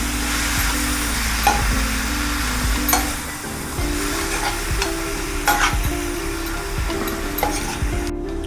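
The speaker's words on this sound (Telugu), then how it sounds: "ఇప్పుడు పాలకూర కంప్లీట్గా మగ్గే వరకు వేపుదాం" Spinach frying with onion masala in a pan, a loud continuous sizzle punctuated by spatula scrapes and stirring knocks, close up and without voices.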